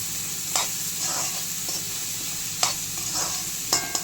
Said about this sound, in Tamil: இது நல்லா கோல்டன் ஃப்ரை ஆகட்டும்.